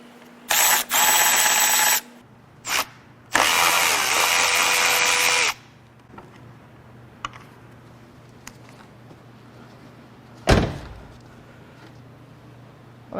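A power tool, likely an impact driver on a swivel socket, loosens a bolt on a salvage-auction car in two loud whirring bursts, followed by quieter clicks, ticks and a sharp metallic knock.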